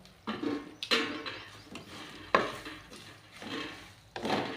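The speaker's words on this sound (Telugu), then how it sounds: "కడిగి పెట్టుకున్న చేప ముక్కలు ఇవి కొంచెం ఎర్రగా వచ్చేంత వరకు ఫ్రై చేసుకోవాలి" Washed dried fish pieces fry in a pan with curry leaves while a spatula scrapes and turns them in about six distinct, moderately loud strokes, with no talking.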